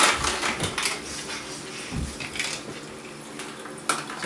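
Ice scooped from a NewAir AI-250W portable ice maker with an ice scoop, a run of close, irregular clinks and rattles of cubes against plastic, with a sharper clatter near the end.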